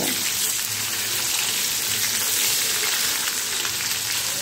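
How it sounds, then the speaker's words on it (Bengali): Chopped onion and garlic fry in a pan for hand-mashed masoor dal, a dense, even hiss of sizzling oil that holds steady and close throughout, with no voices. "এবারে পেঁয়াজ আর রসুনটা আমি আবারও খুব ভালো করে ভেজে নেব।"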